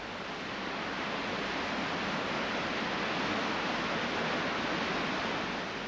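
River Tees thunders over the High Force waterfall in Upper Teesdale, a dense, steady roar of falling water heard close and loud without a break.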